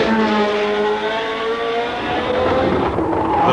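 Formula 1 cars of 1977 racing through the streets of Monaco, engines droning loud and steady with rising and falling pitch as they pass in close succession, no voices.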